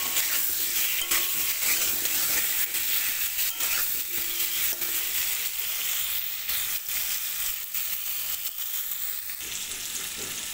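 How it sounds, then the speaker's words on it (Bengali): Medium-sized potato pieces fry in hot oil, giving a steady crackling sizzle with intermittent stirring clatter, close and continuous throughout. "আলুটা এখানে নোনার জন্য দিয়ে ভেজে নিচ্ছি।"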